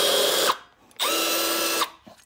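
A rivet tool pulls a rivet while fitting parts in a Subaru Impreza, producing two close, loud whirring mechanical bursts separated by a short pause.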